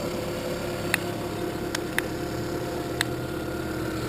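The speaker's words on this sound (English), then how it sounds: "the engine's all nice and clean. We have it running here for you so you can hear it's running perfectly smooth." A 2012 Toyota Prius engine idling smoothly in a steady, even hum, with a few brief faint clicks standing out over the continuous drone.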